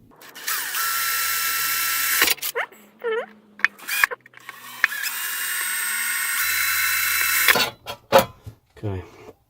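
Small power drill boring a tiny hole in a tin box guitar body, two sustained whirring bursts of drilling separated by pauses, with someone talking in between.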